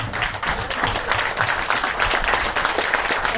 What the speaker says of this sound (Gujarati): એક વાર ખડે હોકે જોરદાર તાળીઓ છે.